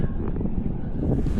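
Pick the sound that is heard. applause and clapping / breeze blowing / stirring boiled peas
breeze blowing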